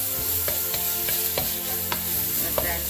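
Dungeness crab curry sautés in a pan, a steady close sizzle punctuated by a regular series of spoon scrapes and taps as it is stirred.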